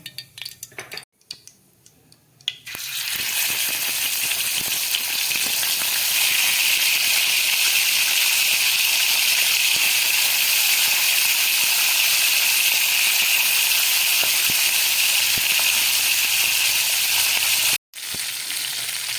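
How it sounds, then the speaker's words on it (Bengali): Fish head and tail pieces fry in hot oil in a kadai, a loud continuous sizzle and hiss that starts after a few quiet seconds of handling, with a brief break near the end; no voices. "তেল দিয়ে মাছের মাথা আর লেজাটাকে আমি ভালো করে ভেজে নেব।"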